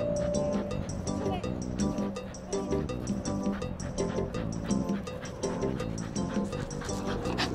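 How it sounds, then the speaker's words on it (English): Dogs bark and yip repeatedly in a busy, rhythmic stream, close and fairly loud, with some whimpering mixed in. "Seven dogs."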